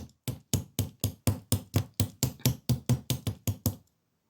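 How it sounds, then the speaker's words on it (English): Steady hammering on jewellery wire for hoop earrings, hardening one side: about fifteen crisp, evenly spaced metallic taps, close and fairly loud, stopping after almost four seconds. "I'm just hammering one side."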